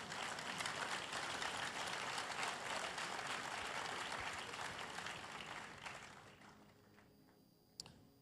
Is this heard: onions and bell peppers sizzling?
no